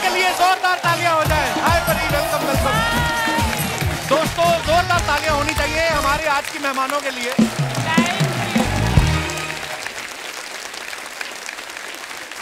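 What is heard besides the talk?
studio audience applause for the guests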